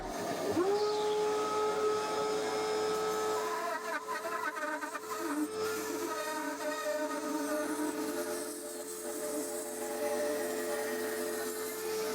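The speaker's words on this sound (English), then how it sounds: "I marked up a taper for the neck, which I then cut on the bandsaw" A bandsaw cutting a taper along a ukulele neck spins up into a steady, high motor whine with a buzzing cut. It stays loud and continuous, with no talk.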